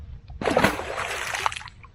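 A caught smallmouth bass slips back into the water with a splash, a near sloshing burst of about a second and a half that fades away, with no talking over it.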